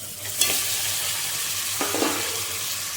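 Boiled goat head bone pieces frying in a pan with turmeric and ginger-garlic paste, stirred with a spoon: a continuous sizzle with a few scraping and clinking strokes, no voices.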